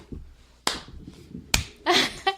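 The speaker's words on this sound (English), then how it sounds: "Let me do a slow clap." Three sharp hand claps spaced apart in a slow, deliberate rhythm, close and loud, with faint talk between them.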